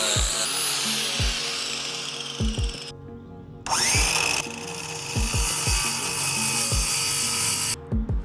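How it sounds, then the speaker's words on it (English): A power tool grinding down the wood surface of a truck camper: loud, harsh whine and grinding that runs in long bursts, cutting out briefly twice, with thuds and knocks from handling the piece beneath it. "So we're gonna use the angle grinder for that."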